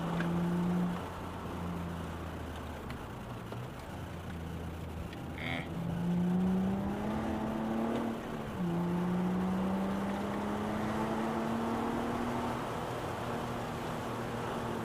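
A car drives down a winding mountain stretch of HWY 160 on the Kentucky–Virginia border. Its steady engine drone rises and falls with gear changes against continuous road noise, close and even throughout.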